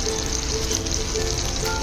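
Mustard seeds frying in butter in a pan, a steady close sizzle and crackle that holds evenly throughout with no talk over it.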